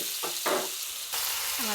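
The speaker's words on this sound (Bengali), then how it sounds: "এখন দিয়ে দেব কিছুটা পেঁয়াজ কুচি, রসুন কুচি দিয়ে সুন্দরভাবে আমি এটা ভেজে নেব" Chopped onion and garlic hit hot oil in a pan, giving a loud, steady close sizzle with brief stirring scrapes over under two seconds.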